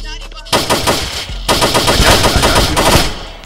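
Video game gunfire in bursts: a brief quiet start, then loud rapid automatic shots from about half a second, a short gap, and another sustained rattling volley that fades near the end.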